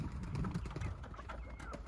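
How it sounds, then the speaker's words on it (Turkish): Pigeons and chickens in a farmyard, with soft coos and clucks mixed into a busy, close bird chatter over about two seconds. "Aha güvercinlerim çıkmaya başladı."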